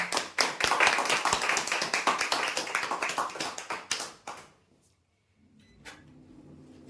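Applause at a prize-draw ceremony, a crowd clapping loudly in a dense burst for about four seconds before fading out into quiet room noise, with no voices over it.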